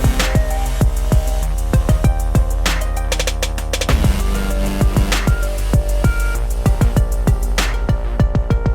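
A hip-hop beat plays alone: sharp, punchy drum hits keep a steady rhythm under a melody that is chopped in halves and panned left and right.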